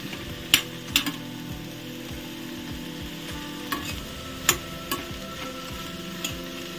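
Okra, or lady's finger, cooking in a pan with a soft steady sizzle, broken by a few sharp metallic clinks and scrapes of the spoon stirring nearby, with no talk.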